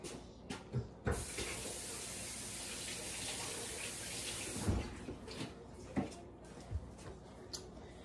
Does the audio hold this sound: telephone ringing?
no